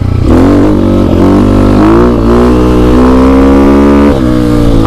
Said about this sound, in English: The exhaust sounds really mean without the baffle in there. And just for reference, this is second gear